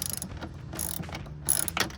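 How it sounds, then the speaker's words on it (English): A ratchet tightens the 10 mm mirror bolts on a 2013–2018 RAM 1500. Several short clicking bursts are separated by quiet gaps and heard up close. "I'm gonna tighten all these just till snug before I tighten them down the rest of the way"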